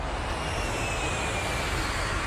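Steady roar of a Boeing 747 airliner in flight, a continuous broadband engine drone with no pauses or voices.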